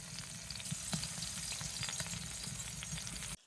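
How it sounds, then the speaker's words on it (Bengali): Crushed tomato frying in oil in a karahi for a tomato bharta, a loud, steady sizzle with a few sharp crackles, close and alone with no talking. "কড়াতে তেল দিয়েছি তেলে এবার টমেটো গুঁড়া দিয়ে দিলাম"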